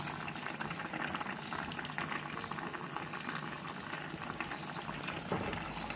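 A traditional Kerala-style tuna curry simmers with constant close bubbling and gurgling as coconut oil is poured over it, a dense, even liquid sound that lasts throughout.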